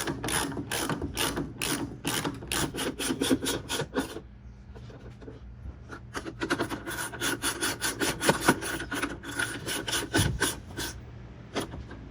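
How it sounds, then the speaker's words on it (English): Ratchet wrench tightening a 13 mm bolt on a BMW Z4 Coupe front strut during a Bilstein strut and H&R spring install, giving rapid close clicking bursts that pause briefly and then resume, with no talking. "Now let's grab our 13 mil, tighten this up."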